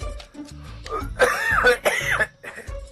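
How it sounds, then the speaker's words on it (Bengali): A man with a cold coughs several times in quick, harsh bursts with some throat clearing, close and loud in a dramatic film scene. "তুমি কাশছো কেন? ঠান্ডা লেগেছে নাকি?"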